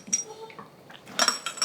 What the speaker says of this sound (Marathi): चला आता सगळ्यात आधी शेंगदाणे भाजूयात